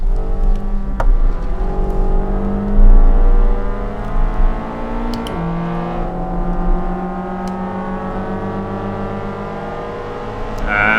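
Race car engine in the Assetto Corsa sim racing game, a loud, steady high-revving drone with rising and falling pitch through gear changes as it pulls down a straight, sustained throughout with no talking.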